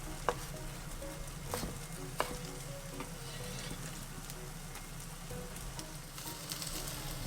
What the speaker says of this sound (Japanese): お豆腐を焼いてる間に野菜を切っていきます。